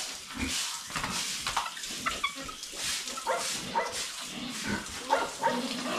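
A sow on a pig farm grunts and squeals in short irregular bursts, fairly close, mixed with scattered farmyard noises and a few higher whiny cries.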